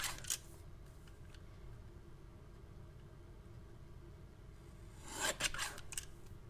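Scissors cutting paper for a handmade card, a couple of short snips at the start and a louder cluster of close cuts near the end, over a quiet room hiss.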